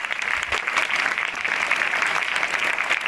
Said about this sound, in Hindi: इतना तो खाया होगा कि 30 सेकंड तालियां बज जाएं।